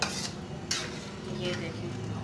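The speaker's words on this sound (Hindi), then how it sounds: "अब हम इसको आराम से मिक्स कर लेंगे ताकि हमारे चावल टूटे नहीं।" Chana pulao rice being gently mixed in a pot with a spoon, a steady soft scraping and stirring with brief louder scrapes, close up, over a low hiss of cooking on normal heat.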